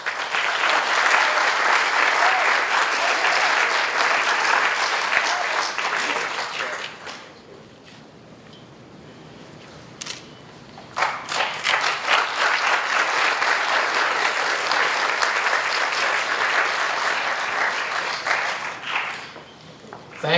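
Audience applause at a school recognition ceremony, a long full round of clapping that dips into a quieter stretch midway, then swells again with a few sharp claps before rising to a second loud burst.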